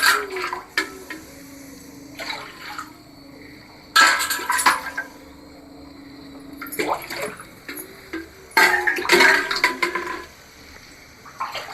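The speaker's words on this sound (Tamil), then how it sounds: "நான் எந்த கிளாஸில் ரவை எடுத்தனோ அதே கிளாஸில் 5 கிளாஸ் தண்ணி ஊற்றிக்கிறேன்." Water poured from a glass into a cooking pot for rava, heard as three bursts of splashing and pouring with faint clinks of metal, fairly close, with quiet gaps between.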